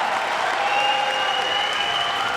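A large arena crowd at a Counter-Strike major in London applauds and cheers in a steady, dense wash of clapping with no breaks.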